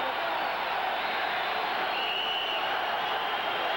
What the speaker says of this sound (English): And the crowd really comes alive.